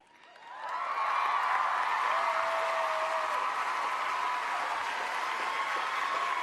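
A large crowd at the 2013 Teen Choice Awards applauds steadily after a quick swell, a dense continuous roar of clapping with faint cheers mixed in.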